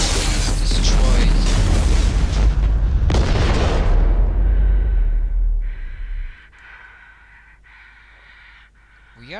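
In Mass Effect 2, the starship Normandy is torn apart by a huge, rumbling explosion. Heavy booms and roaring debris fill the first six seconds, then fade to a quiet hum broken by faint beeping tones.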